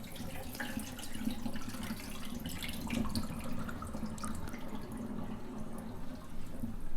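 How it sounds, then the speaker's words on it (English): Water drains off soaked napa cabbage leaves during kimchi preparation, a close, steady trickling and splashing with small drips that runs the whole time at an even level. "So make sure to get them nice and soaked, and then drain off the water."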